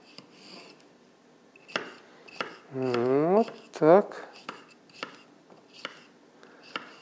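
A knife slices through a fresh cucumber on a cutting board: a run of sharp, separate knocks spaced across several seconds, close and fairly quiet. A voice speaks briefly in the middle.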